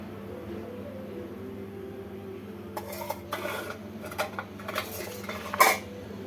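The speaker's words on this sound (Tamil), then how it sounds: "நான் இப்போ தட்டில் புளிஞ்சுக்கிறேன்." Chilli murukku dough pressed from a metal murukku press onto a plate, with soft scraping and a few sharp metallic clinks and taps close by in a quiet kitchen over a low steady hum.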